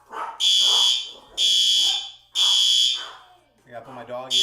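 An office alarm sounds in repeated loud, shrill beeps of roughly a second each, separated by short gaps, while a person talks in between and a dog seems to bark.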